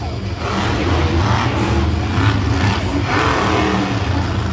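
A loud, throaty monster truck engine roars and revs continuously at a Monster Jam event in Anaheim, a deep rumble holding steady throughout with no pauses.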